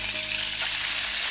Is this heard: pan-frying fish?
yes